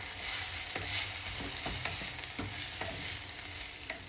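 Spices being stirred into a poha and semolina batter, with steady scraping and stirring strokes at an irregular rhythm over a soft sizzle-like hiss, close and quiet, with no talking.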